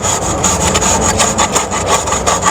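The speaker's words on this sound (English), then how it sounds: "take our nice aluminum straight edge like this, and we're just trying to shave back and forth until we hit our spot" An aluminum straight edge scrapes back and forth across drywall joint mud, a loud, steady rasping rub with quick rhythmic strokes and no pause.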